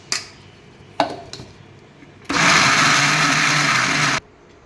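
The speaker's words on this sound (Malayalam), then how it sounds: "നമുക്കിനി ഇത് നന്നായിട്ട് അരിഞ്ഞെടുക്കും" A kitchen mixer grinder grinds soaked urad dal into batter for Kerala-style vada. A few light knocks come first, then a loud, steady motor whir for about two seconds before it cuts off.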